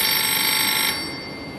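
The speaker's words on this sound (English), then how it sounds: "But unexpectedly, his phone rings." An office telephone rings loudly with a continuous electronic bell tone that cuts off partway through, leaving a quieter room hum behind it.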